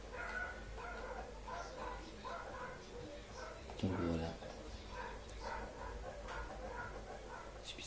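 A dog gives a short burst of barking and whimpering in the background while someone talks over a Modern Warfare 3 survival game session, the yelps brief and somewhat muffled beneath the speech.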